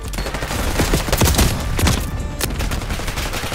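Rapid gunfire in Call of Duty Black Ops 6, a dense fusillade of overlapping shots and bursts right at a spawn point, loud and close throughout with no talking.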